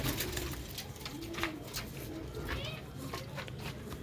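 Sialkoti black-faced pigeons cooing close by, several soft rolling coos repeating at intervals over a constant background hum, while someone talks.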